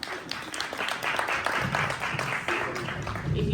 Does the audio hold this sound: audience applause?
yes